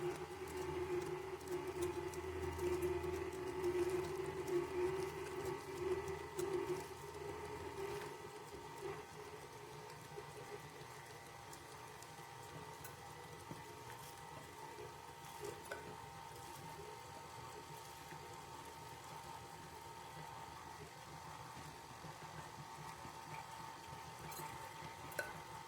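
A stand mixer running on its stir setting as a flour and oat mixture is added for oatmeal cranberry white chocolate chunk cookie dough, a steady low mechanical whir with faint clicking and rattling, quiet and continuous throughout.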